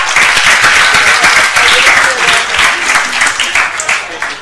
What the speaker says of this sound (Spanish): Un aplauso para Rafa